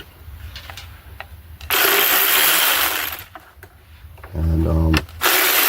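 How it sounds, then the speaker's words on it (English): Bursts of a power tool whirring as it removes screws from the intake manifold cover of a 2009 Dodge Journey 3.5L AWD, a long loud run then shorter ones, with clicks and clatter in between. "I'm just gonna use my power tool to take them off real quick."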